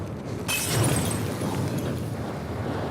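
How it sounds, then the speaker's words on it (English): Wires detonate in a video game with a sudden burst half a second in, followed by a rumbling, sustained explosive roar that stays loud and fills the rest of the moment. "some of the wires already detonated"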